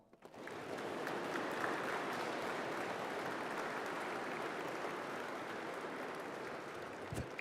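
Sustained applause from a ceremony crowd at a Citadel class ring presentation, a dense even wash of clapping that starts abruptly and holds steady at moderate level for several seconds.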